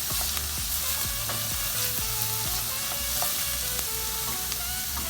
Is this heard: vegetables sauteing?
yes